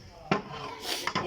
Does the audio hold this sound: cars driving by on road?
no